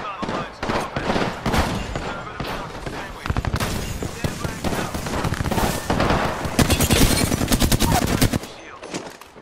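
Rapid automatic gunfire in Apex Legends: dense bursts of close shots that swell into sustained fire, loud and sharp, with people talking over parts of it.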